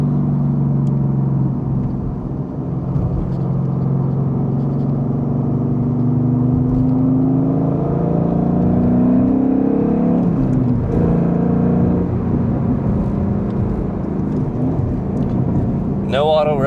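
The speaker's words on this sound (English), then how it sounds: "Nothing like a naturally aspirated 5-liter V8. And those quad pipe exhausts just make it all the more better." A 2012 Ford Mustang Boss 302 with a naturally aspirated 5-liter V8 and quad exhausts drones with a loud, steady low rumble from the cabin while driving, its pitch rising and falling gently with the revs.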